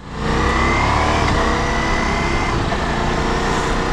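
A Ducati Multistrada V4 Pikes Peak motorcycle engine runs steadily and loudly close by, a constant mid-pitched drone with no speech over it.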